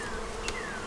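Neglected honey bees in a bee yard hum in a dense, continuous drone, with individual bees whining past close up over the steady swarm.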